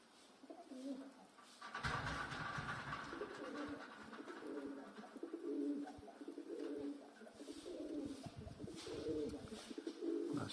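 Pigeon cooing repeatedly in low, soft rolling phrases at close range, steady and continuous with a faint background hiss.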